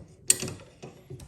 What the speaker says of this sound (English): This thing, slip the bolt back in.